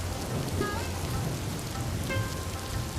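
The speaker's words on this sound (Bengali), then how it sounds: "অসংখ্য জলকণা উজুত নিজুত জলকণা নেমে যাচ্ছে রাস্তায় ঘুরে পড়ছে আকাশ থেকে" Steady rain pours onto a city street during the monsoon season, a dense continuous hiss close by with low rumbling underneath and a couple of brief faint tones breaking through.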